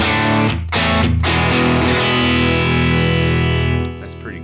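Electric guitar through a Universal Audio Enigmatic 82 Overdrive Special pedal on an edge-of-breakup preset, Dumble-style tone; loud sustained chords with a couple of quick re-strikes early, ringing out alone before fading.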